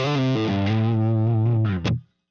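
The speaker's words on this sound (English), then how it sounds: "JTM45. This was the first guitar amp made by Marshall and has a similar tweed sound to the Fender Bassman." Electric guitar played through a Marshall JTM45 amp model in Pro Tools, with a tweed-style crunchy distortion: sustained chords that shift pitch, then a short picked accent before cutting to silence.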